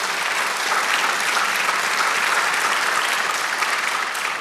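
A church congregation applauds together in steady, dense clapping that fills the whole stretch at an even level, with no speech over it.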